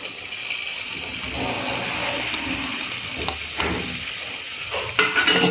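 Chopped onion being mixed into a smoky roasted eggplant mash, a soft continuous wet stirring and sizzling texture broken by a few sharp utensil taps near the end, close and steady, with no voice.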